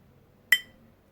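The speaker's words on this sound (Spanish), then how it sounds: "Esos pequeños golpes de corte de vidrio nos tienen que indicar que tenemos que seguir girando la botella" A bottle cutter scoring a glass bottle gives a single short, bright clink, close and crisp, against a quiet background.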